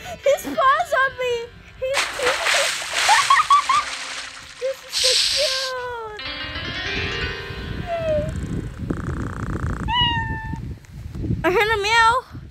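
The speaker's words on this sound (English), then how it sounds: "I heard a meow." A kitten meows repeatedly in a Roblox kitten game, with several rising and falling cries between excited voices and other game noises.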